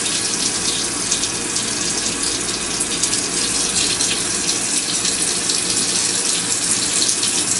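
Water pours from a kitchen tap in a steady, full-bodied rush. It is close and continuous, with no talk over it.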